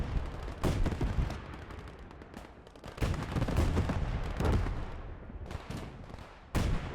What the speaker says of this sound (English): 80 guns now firing at the infantry.